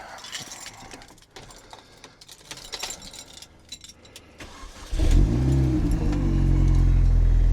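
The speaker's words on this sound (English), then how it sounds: "pop the key in the ignition, start the car" Keys jingle and click faintly near an ignition, then a MINI Cooper (R50/R52/R53) engine cranks and catches, settling into a loud, steady idle.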